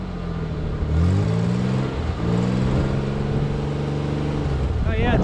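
A Ford Bronco II's 2.9 V6 engine idling and revving up and down, a close, steady low hum that rises and falls in pitch, with people talking alongside.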